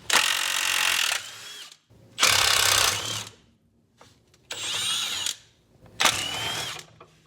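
A power tool spins off rusty steering tie rod bolts on a 2002 Acura TL-S, running in four loud bursts of about a second each, separated by brief pauses.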